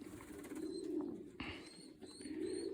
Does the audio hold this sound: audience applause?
no